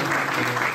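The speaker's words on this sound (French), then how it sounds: "Oui, oui, on peut acclamer." An audience applauds at a French talk or sermon, a dense, steady wash of clapping from many hands close by, with a voice partly audible underneath.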